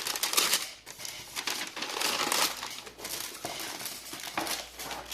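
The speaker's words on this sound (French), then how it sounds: "On ouvre ça, le petit papier off-white." Off-White tissue paper crinkles and rustles steadily for several seconds as it is unwrapped from an Off-White Air Max 97 Menta sneaker box, with close, dense papery crackling and no talk.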